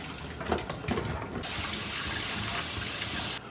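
Cut potato fries rinsed under running tap water, a steady close splash of flowing water after some brief handling noises at the start, cutting off near the end.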